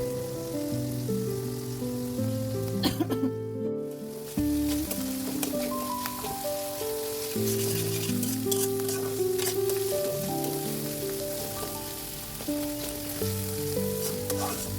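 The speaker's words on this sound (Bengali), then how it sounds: "এইভাবে চুলার উপরে অনেকটা সময় নিয়ে নেড়ে চেড়ে ভেজে নিতে হবে ভর্তাটাকে" Culantro mash bhorta is stir-fried in a pan on the stove, giving a steady, continuous sizzle with occasional stirring scrapes under louder background music.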